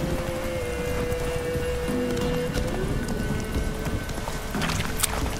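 Roach, Geralt's horse in The Witcher 3: Wild Hunt, gallops with steady, rapid hoofbeats close by, a continuous clip-clop over a bed of ambient game noise.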